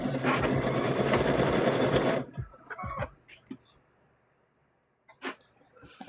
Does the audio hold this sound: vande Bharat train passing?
no